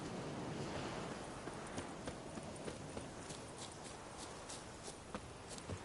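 A horse in a video game walks along a road, its hooves clip-clopping in a steady, soft rhythm under a dense wash of wind and ambient noise.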